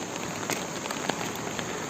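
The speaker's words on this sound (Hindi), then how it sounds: "थोड़ा सा मुश्किल हो रहा है, बारिश तेज़ है" Heavy rain pours steadily outdoors beside a village road, a dense hiss of drops striking surfaces with a few sharper splashes standing out, close and continuous, with no one talking.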